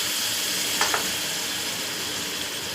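A spinach and coriander paste stirred in a hot pan for palak paneer: a steady, close frying hiss with one quick pair of scraping strokes partway through, no voices.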